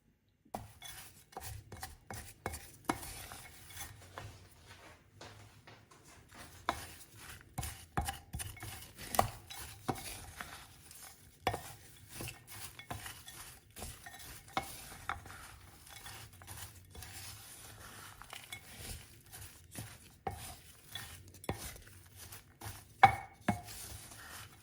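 A spoon scrapes and clacks in a bowl as granola mixture with coconut oil is stirred, giving irregular close taps and scuffs of varying loudness throughout.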